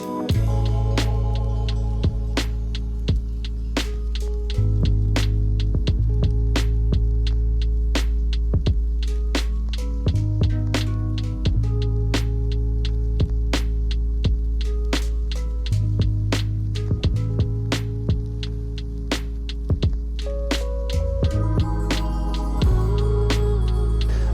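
A roller compactor runs over freshly laid pavers before polymeric sand goes down, giving a loud, steady engine hum with a deep throbbing pulse and rapid rhythmic clicks that continue for the whole stretch, with no talking.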